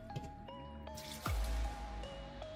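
Hand-warmed water poured onto flour for bread dough, heard as a short close splash and gurgling pour with a few drips beforehand, no talking.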